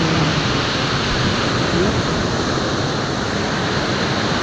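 Ocean waves roll in at a beach campsite on a calm, windless morning, a steady broad surf hiss close by and fairly loud, with no voices over it.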